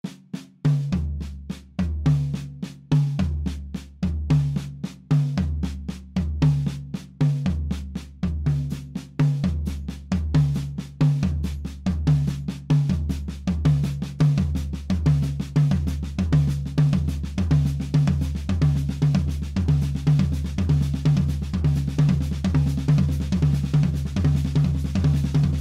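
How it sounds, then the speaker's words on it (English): Paradiddle sticking on a drum kit with the accents moved onto the tom-toms, a steady run of strokes where the accented tom hits stand out in a regular repeating pattern that speeds up and grows denser. "Version two is playing the accents on the tom-toms."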